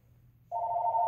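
A telephone starts ringing abruptly halfway through, a steady electronic tone that holds loud and unbroken over a low background hum.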